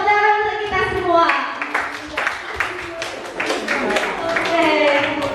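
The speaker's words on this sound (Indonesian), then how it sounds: "Tepuk tangan untuk kita semua." Classroom clapping at the end of a lesson, a burst of hand claps from a group of pupils that starts after a teacher's voice and continues over scattered children's chatter.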